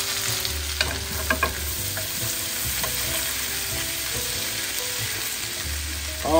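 Garlic frying in butter in a pan makes a steady, loud sizzle close by, with a few soft utensil taps and no talk.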